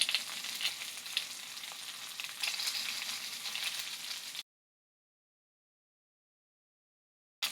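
Brussels sprouts sizzle and fry steadily in a pan for about four seconds before the sound cuts to silence; near and fairly loud, with no talk.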